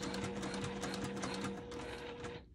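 Sewing machine runs in a continuous rapid stitching rhythm, appliquéing fabric around a hexagon patch, close and loud, then stops abruptly at the end.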